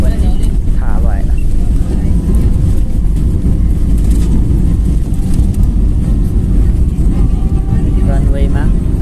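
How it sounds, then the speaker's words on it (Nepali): Airliner touching down in Nepal and rolling along the runway, heard from inside the cabin as a loud, steady broadband roar and rumble that holds throughout, with voices talking over it. "रनवेमा दौडिरहेको छ जहाज"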